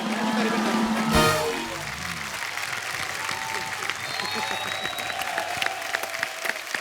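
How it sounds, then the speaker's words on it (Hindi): Studio audience at a comedy talk show applauds Govinda: a loud burst of clapping that settles into steady, sustained applause with scattered cheers. "जोरदार तालियां गोविंदा सर के लिए।"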